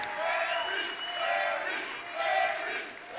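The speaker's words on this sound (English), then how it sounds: "Ladies and gentlemen, round of applause." Audience at a Coweta County Dancing Stars charity dance show clapping and cheering for a dancing couple, a broad sustained crowd roar that swells and dips in waves.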